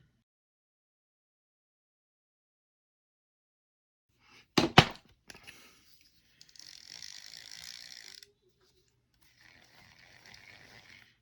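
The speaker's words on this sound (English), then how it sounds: "Not a very smooth reel. It's kind of grindy, but those little teeth are kind of worn a bit." A worn Ryobi SX-2 fishing reel is cranked with a sharp clicking burst, then turned in rough, grindy stretches from its worn gear teeth, quiet and close with pauses between.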